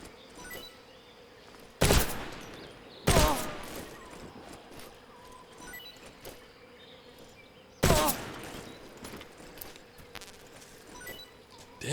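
Gunfire in Metal Gear Solid Delta: Snake Eater, a few sharp, loud shots spaced seconds apart over quieter ambient game sound with soft clattering.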